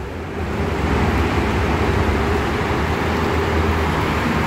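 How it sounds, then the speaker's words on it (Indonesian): A Sinar Jaya bus passes eastbound on the Jakarta–Cikampek toll road at KM 18 during post-Lebaran return traffic, a broad, loud, steady roar of engine and tyres mixed with continuous highway traffic. "Ada juga bis Sinar Jaya ke arah timur."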